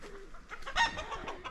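A hen clucking softly in a short burst of several quick clucks, faint and close, with no talk.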